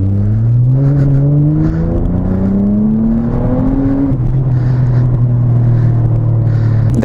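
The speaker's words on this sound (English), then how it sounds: "Alright, second gear pull." A motorcycle revs hard through second gear, its engine note climbing steadily and then easing off; a loud, continuous, close-up engine roar with wind rumble and no talk.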